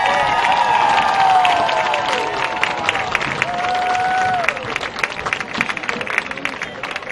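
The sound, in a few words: audience applause for the Oxford Chargers football team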